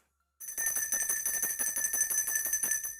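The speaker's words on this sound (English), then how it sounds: "Vendetta Records ringing the Liberty Bell for you" Liberty Bell sound effect played as a ringing bell: bright, sustained metallic tones with a rhythmic series of repeated strikes, fairly loud and alone, starting after a brief silence.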